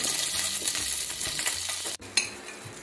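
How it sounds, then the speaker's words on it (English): Steady, crackling sizzle of sausage frying in hot vegetable oil in a frying pan, close up, with a brief clink of a utensil near the end. "I just added some vegetable oil to the frying pan, and I'll be placing the sausage"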